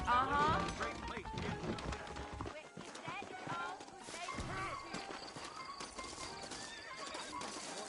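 Horse hooves clip-clop steadily in the Red Dead Redemption video game, close and continuous, with horses neighing and a voice talking over the trotting.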